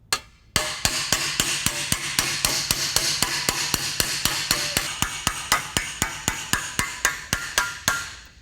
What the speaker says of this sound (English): start working against the dolly with a smooth face tool called a slap hammer